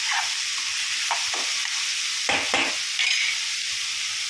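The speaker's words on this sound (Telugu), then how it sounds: "దీంట్లో ఆనియన్, పచ్చిమిర్చి వేసుకున్నాం. వేసుకొని తిప్పుకొని సిమ్లో పెట్టుకొని ఒక 5 minutes మగ్గనిద్దాం." Chopped onion and green chillies sizzle steadily in a hot pan, with repeated scraping stirs of a spatula breaking through the constant frying hiss.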